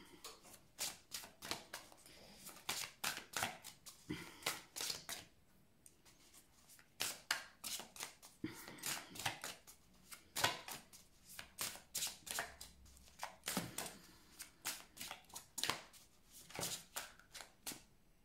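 Tarot cards shuffled by hand, close to the mic, in repeated crisp riffles and flicks grouped into bursts with short pauses between them. No voices.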